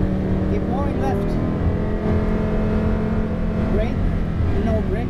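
A car engine drones steadily through a driving lesson, held at a constant moderate roar with slight rises in revs, while an instructor speaks over it.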